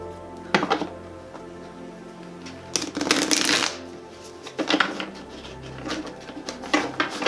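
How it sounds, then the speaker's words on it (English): A deck of Goddess oracle cards is shuffled close by, in several quick papery riffling bursts separated by short pauses, with no talking. "So I'm gonna go ahead and pull some Goddess cards."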